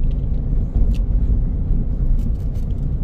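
A Toyota Etios diesel car engine idles smoothly after decarbonization, giving a steady low rumble that stays even and unbroken with no revving, heard close and alone.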